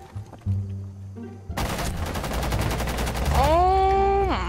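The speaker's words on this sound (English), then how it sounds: "Oh, that's you shooting, okay." Rapid automatic gunfire in Rainbow Six Siege, a loud dense burst of evenly spaced shots that follows a few separate sounds and ends in a ringing tone.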